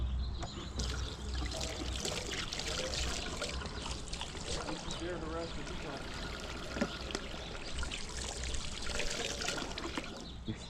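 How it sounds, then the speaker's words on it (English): Hot water running from a tap while hands are washed, a steady faint splashing stream that continues throughout, with soft background voices. "it's probably a good idea to wash your hands."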